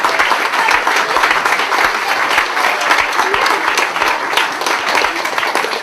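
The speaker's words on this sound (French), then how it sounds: "On peut tous les applaudir." Audience applauding a youth swimming team from Brest at a sports celebration in Auray, dense, steady clapping from a sizeable crowd that fills the whole stretch at an even, loud level.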